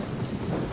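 Rain and rumbling thunder in the Genshin Impact video game, a brief dense wash of falling rain with a low continuous roll underneath, steady and fairly loud.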